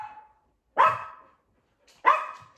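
A dog barks twice indoors, two loud separate woofs close by about a second apart, with a short faint sound just before and no talking.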